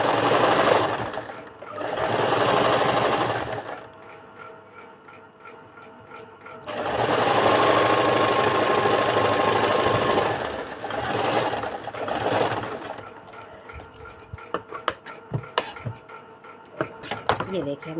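Sewing machine stitching a folded edge of blouse fabric, with loud whirring bursts of stitching separated by quieter pauses.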